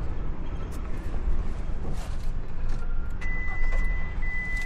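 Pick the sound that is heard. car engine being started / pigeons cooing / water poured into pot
car engine being started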